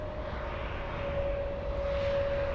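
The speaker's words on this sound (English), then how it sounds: "Eurowings 7170 on short final." Eurowings airliner inbound from Hamburg on short final at Munich, a steady jet engine roar with a sustained whining tone, loud and continuous throughout with no talk.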